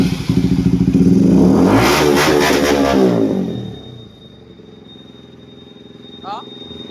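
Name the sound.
NS200 motorcycle engine revving with new carburetor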